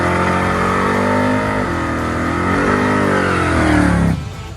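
Modified Camaro engine with a swapped Edelbrock Super Victor intake revving hard against the foot brake, loud and close, the pitch rising and dipping through several pulls before cutting off abruptly.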